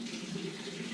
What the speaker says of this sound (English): And I will run fresh water through.